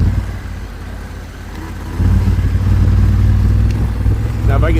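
Honda twin-cylinder motorcycle with a dual-clutch transmission ridden along, its engine humming low then opening up louder and steadier after a couple of seconds, close by with light wind noise.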